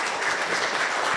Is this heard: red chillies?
no